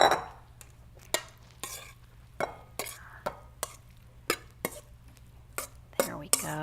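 Corn and avocado salad with basil being spooned into a serving bowl, a series of sharp scrapes and clinks of a spoon against the dish at irregular intervals, close, with a low steady hum underneath and a voice faintly at the end.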